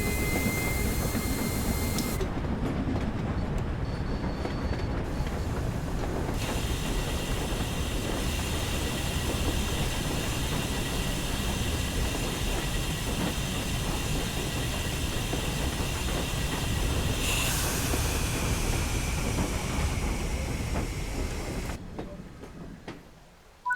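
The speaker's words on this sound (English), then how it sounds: "Train coming." A steam-era train in Train Sim World 4, led by an LMS Class 8F locomotive, rolls into a platform with a steady, loud rumble of wheels and hissing steam that carries on before fading out near the end.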